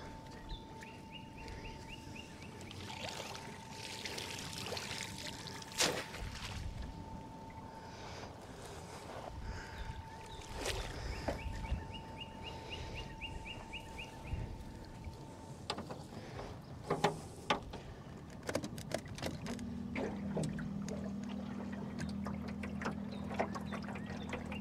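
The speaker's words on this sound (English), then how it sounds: "Sounds like they're clogging up my aerator." Steady watery churning and splashing from a small boat aerator pump holding gizzard shad, with wind buffeting the microphone and occasional knocks and clatter throughout.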